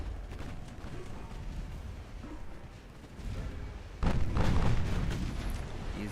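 Warship guns boom in Ultimate Admiral Dreadnoughts during a naval battle, a low rumbling barrage that builds and then erupts into heavier blasts near the end, over constant background noise.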